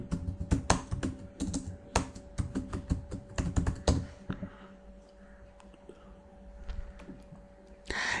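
Typing a search on a computer keyboard, a fast run of close, crisp key clicks for several seconds, then a pause with a few scattered taps and clicks.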